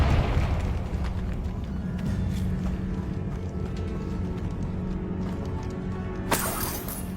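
A Confringo spell erupts in Hogwarts Legacy, a heavy low boom that rumbles on with crackling debris, then a sudden bright burst near the end.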